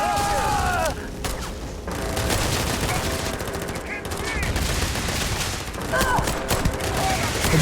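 Rapid gunfire from a sci-fi shooter game, Starfield, fills the whole stretch as loud continuous bursts and fusillades with a few brief pauses, mechanical clicks mixed in.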